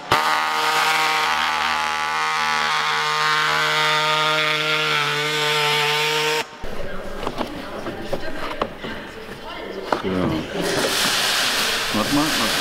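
A steady power saw or cutter drones through car body panel during roll cage installation in a race car workshop, then gives way to harsher cutting and scraping noise mixed with workshop activity.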